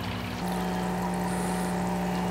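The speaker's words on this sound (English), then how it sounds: "And it just keeps bubbling through." An aquarium-style air stone aerator bubbling air through a bucket of worm tea, a dense continuous close-up gurgle and fizz with a steady low pump drone, no talking.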